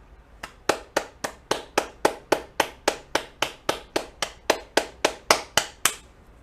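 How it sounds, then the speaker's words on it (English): Sharp, evenly spaced hand claps, about twenty in a steady beat, ring out clearly and close by in near silence to salute a prize-winning university team at an ideathon demo day. "let's give UH Manoa a round of applause here"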